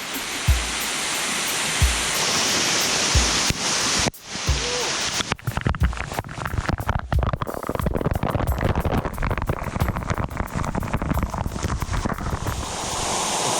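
Waterfall in Puerto Rico roaring as a steady broadband rush of falling water, loud and close, with brief dropouts and choppy spray-like bursts as if moving beneath the falls.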